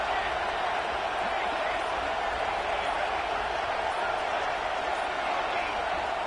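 A stadium crowd in a college football video game keeps up a dense, constant roar. The wall of cheering noise stays level and unbroken throughout, with no distinct peaks.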